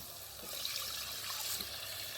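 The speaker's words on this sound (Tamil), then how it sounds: "இப்போ தண்ணி சேர்த்துருவோம்" Water poured into a cooking pot of fried masala with cumin and pepper, a steady broadband rushing splash lasting a couple of seconds, close and moderately loud.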